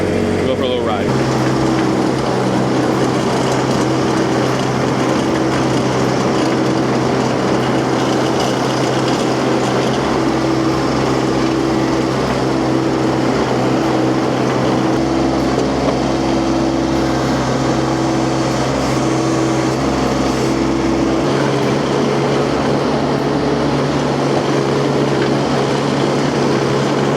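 Baumalight TRL630D mini skid steer with its engine cranked up and driving, a loud, steady droning hum with a constant pitch that runs without a break for the whole span, close to the listener.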